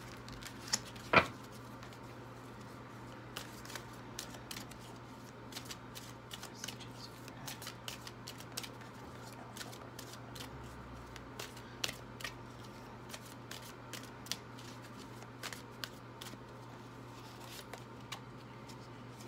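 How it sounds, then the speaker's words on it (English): Soul tree oracle cards being shuffled and pulled, giving soft, sparse papery flicks and taps over a steady low hum, with no talking. "let's just pull some soul tree cards to see what we got here"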